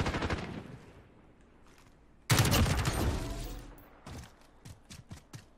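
Kilo rifle gunfire in the Modern Warfare video game, a loud burst that starts suddenly after a quieter stretch and is followed by several separate sharp shots, with no one talking.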